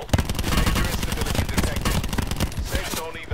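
Loud, close gunfire in Call of Duty Black Ops 4: rapid overlapping bursts of automatic shots crackle continuously throughout, with dense percussive impacts filling the whole moment.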